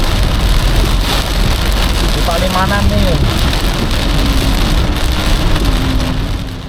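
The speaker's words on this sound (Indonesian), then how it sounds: "Hujannya ngeri. Angin." Heavy storm rain and wind pound a Daihatsu Ayla stuck in holiday return traffic near Palimanan, a dense, steady roar that fills the whole clip while someone speaks briefly over it.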